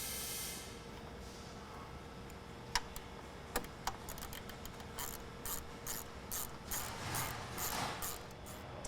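A ratchet clicks in faint, irregular bursts while a bolt is tightened to secure an intake bracket with a rubber isolator on a Jeep Wrangler Rubicon 392, set against a quiet background.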